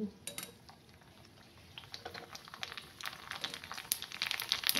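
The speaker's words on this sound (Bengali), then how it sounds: "সুন্দর করে ফুচকাগুলো কিভাবে ভেজে নিচ্ছি" Puchka puris frying in hot white oil in a kadai, a steady bubbling crackle with scattered light clinks and rising crisp pops toward the end.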